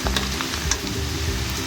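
Meat frying in a karahi with whole black pepper, cinnamon and black cardamom for white chicken karahi, a steady close sizzle with faint crackles running throughout.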